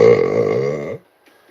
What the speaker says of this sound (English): Alexa, burp.